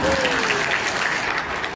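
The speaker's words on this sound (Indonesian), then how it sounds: "boleh tepuk tangan dulu" Audience applause after a speech at an event about Papua province, a dense burst of clapping from a crowd that holds steady for under two seconds before cutting off abruptly.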